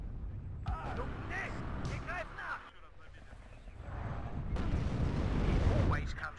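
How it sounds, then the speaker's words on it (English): Artillery fire in the war strategy game WARNO: heavy rumbling bursts and booms rolling through the battlefield soundscape, growing louder toward the end, with a voice talking over parts of it. "Oh, the artillery."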